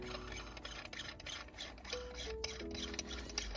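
A new gear knob is tightened onto the shifter of a Mazda MX5, giving faint close ratcheting clicks and small creaks over a quiet interior hum.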